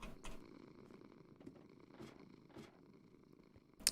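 A cat named Butters purring in a low, steady, faint rumble close by, with a few soft clicks and a brief sharper noise at the very end.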